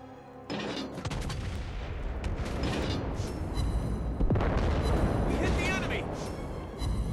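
Warship main guns firing in a World of Warships-style naval game aboard the German Tier VIII Schill: a sudden heavy boom opens a sustained rumbling roar with mechanical creaks and a second blast midway, while someone talks throughout.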